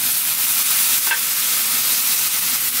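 Seasoned namul vegetables are stir-fried in a pan with sesame oil and a splash of kelp broth, giving a continuous close sizzle and hiss with faint stirring, no voices.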